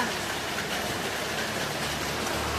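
Heavy rain roars in a constant wash, broad and steady, with a low rumble underneath.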